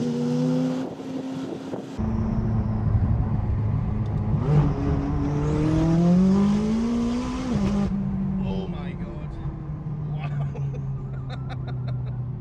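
A car accelerates hard from inside the cabin, its engine note climbing in pitch and then dropping sharply at each very quick gear change, loud and close.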